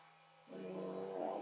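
Heat gun left running while working with alcohol and acrylic ink on an arrow, a faint steady hum that swells into a louder buzzing whir of the fan partway through, close and continuous.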